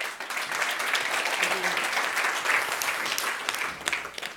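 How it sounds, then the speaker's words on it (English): Steady applause from a crowd at a live-streamed industry event, sustained clapping at an even level throughout, with some voices murmuring underneath. "Could we give him a round of applause?"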